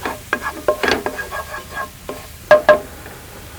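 Scrambled eggs being stirred in a frying pan, with a scraping stir that comes in irregular strokes and a couple of louder scrapes near the end, over a faint sizzle.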